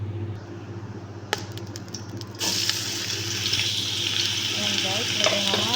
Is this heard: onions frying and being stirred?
yes